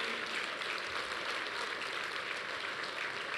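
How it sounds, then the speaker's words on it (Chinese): Sustained, dense applause from a lecture audience honouring departing guests, steady and evenly loud throughout with no speech over it. "让我们再次以最热烈的掌声"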